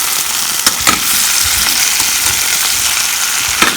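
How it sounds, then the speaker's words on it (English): Potatoes and sun-dried mushrooms fry on high heat in a loud, close, continuous sizzle, with occasional soft pops and crackles rising above the steady hiss, and no voices. "on high heat so that the potato crust or the browning of potato forms"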